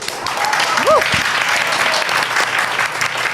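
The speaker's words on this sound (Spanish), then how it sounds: "un aplauso para ella también" Live podcast audience applauding a guest, a crowd clapping steadily and close, with a brief whistle-like tone early on and voices underneath.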